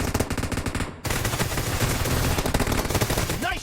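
Groza assault rifle firing unsuppressed in the mobile shooter PUBG Mobile: loud, rapid automatic bursts close up, a brief pause near the one-second mark, then a sustained rattling stream of shots.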